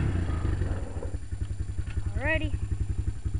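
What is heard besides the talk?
Honda Recon 250 quad engine, throttle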